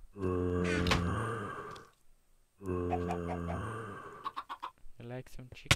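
Chickens in the Minecraft video game cluck and squawk in two long bursts, then in shorter choppy calls, loud and close, with a gap of near silence between.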